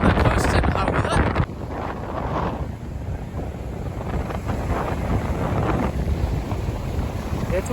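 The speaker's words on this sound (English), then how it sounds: "It's windy." Strong wind blowing along the Windward Coast of Oahu at Hauula, a loud steady rush buffeting the microphone continuously, with faint surf-like noise underneath.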